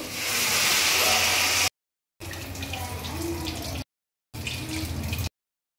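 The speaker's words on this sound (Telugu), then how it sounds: "ఇప్పుడైతే వాటర్ యాడ్ చేసుకుందాం" Water pours into a cooking pot of fried curry-leaf masala in three steady splashing bursts, close and fairly loud, with short silent gaps between them.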